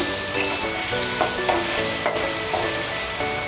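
Potatoes for sabudana khichdi fry and sizzle in a pan under a constant close hiss, with spatula scrapes and taps as they are stirred.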